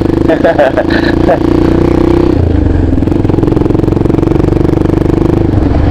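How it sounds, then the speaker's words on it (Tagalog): A motorcycle with the exhaust silencer removed idles loud and close, a harsh steady engine rumble with some clatter early on. "tinanggal natin yung tambutso, yung ano, silencer ng tambutso natin"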